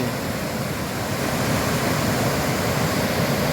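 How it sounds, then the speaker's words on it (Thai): Water churns and splashes as a crowd of fish surfaces, a dense, steady rushing wash that swells slightly louder toward the end, with no voices. "คลื่นขึ้นมาเลย"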